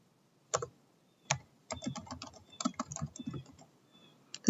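Someone types on a computer keyboard while filling in a Microsoft Word signature line, with close, crisp key clicks in short irregular bursts separated by brief pauses and no talk.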